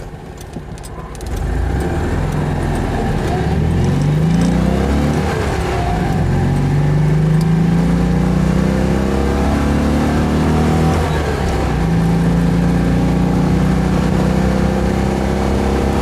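A Citroën 2CV pulls away and accelerates slightly uphill, its small engine droning loudly from inside the car and rising in pitch through the gears, with no talking.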